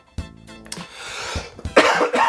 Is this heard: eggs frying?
no